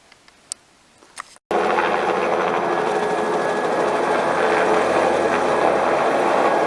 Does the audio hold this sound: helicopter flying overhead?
yes